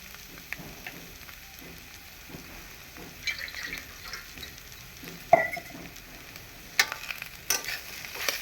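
A potato filling seasoned with ground black pepper is stirred in a frying pan, giving faint, quiet scrapes and soft sizzling with a few sharper utensil knocks toward the end.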